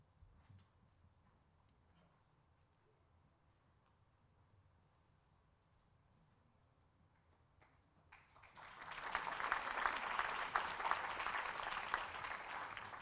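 An audience applauds at a senior awards ceremony as certificates go out, steady dense clapping that starts abruptly around eight seconds after a long quiet stretch of faint room noise.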